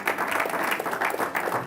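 A church congregation claps during a sermon, a lively, close burst of applause with uneven pulses of hand claps and no clear talking.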